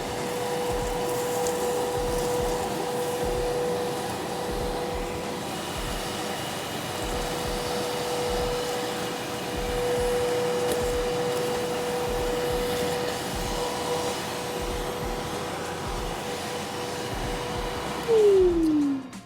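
A VEVOR 4-gallon wet/dry shop vacuum runs with a steady, loud whooshing roar and a whistling tone, then winds down at the end, close and without talking.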